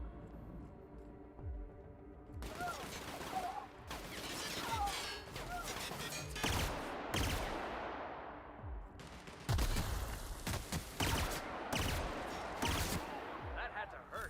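Heavy gunfire in The Outer Worlds video game in rapid bursts and volleys, loud and close, with crashes and impacts mixed in and brief pauses between salvos.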